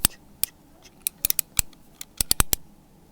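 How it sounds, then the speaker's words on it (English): Crisp scissor snips, about a dozen sharp close-up cuts in an irregular rhythm, alone in a quiet room during a comedy ASMR parent-teacher conference skit. "Cut right down the middle."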